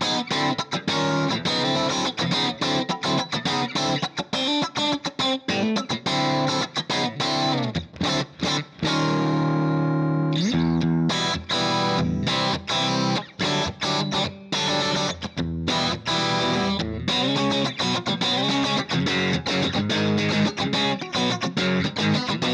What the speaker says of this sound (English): I switched to a Morgan AC20 simulation for a little dirty sounds